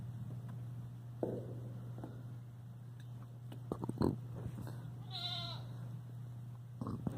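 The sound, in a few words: goats bleating on a farm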